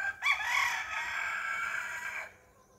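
A rooster crows once nearby, a loud, clear cock-a-doodle-doo lasting about two seconds before cutting off, with a quiet background and no speech.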